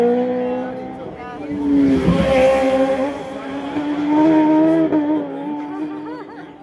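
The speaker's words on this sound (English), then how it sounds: "There's some guys on super sport bikes." Superbikes on a warm-up lap at Ginger Hall on the Isle of Man TT course. The engines howl and rise in pitch as they pass close by, building to a loud peak and then easing off.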